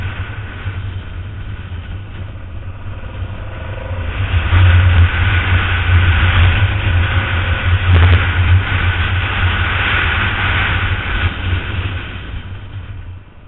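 A Honda Transalp 700 motorcycle engine runs close by with a steady, loud droning hum and low rumble that swells partway through and holds before easing off, with no speech.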